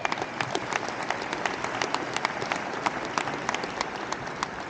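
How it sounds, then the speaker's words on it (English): Audience applauding bus drivers at an international driver competition, steady dense clapping from a sizable crowd with sharp individual claps standing out, moderately distant and continuous throughout. "Let's give them a round of applause."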